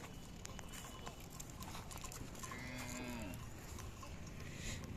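A single low, drawn-out moo from a Gir cow rises partway through, heard faintly over a noisy outdoor background with light patter.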